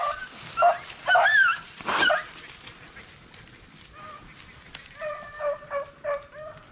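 Rabbit hunting dogs bark and bay in short bursts, then let out a string of drawn-out, yodeling howls, fairly close and loud.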